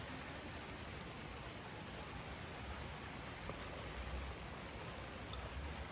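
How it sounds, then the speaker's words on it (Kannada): Heavy monsoon rain falls steadily outdoors as a dense, even hiss with no breaks, heard alone at a moderate distance. "ಮಳೆ ಬರ್ತದೆ ಈಗ ಜೋರು."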